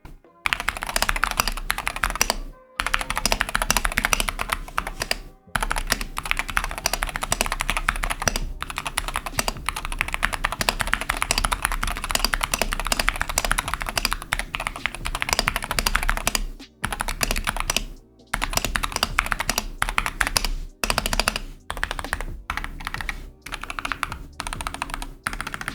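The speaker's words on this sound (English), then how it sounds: "I'm quickly going to give you guys a sound test, a typing test with these keycaps" Continuous fast typing on a Wooting 68E keyboard with L45 switches and Wandering Earth keycaps, dense clacking keystrokes up close with a few brief pauses.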